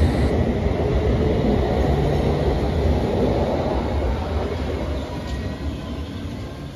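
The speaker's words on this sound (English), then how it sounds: "The train's leaving." A passenger train pulls away from the station platform at Chesham, a loud, steady rumble of wheels and motor that holds constant and then eases slightly as it moves off, with no voices over it.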